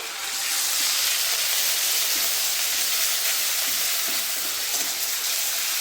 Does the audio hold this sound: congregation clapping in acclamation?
no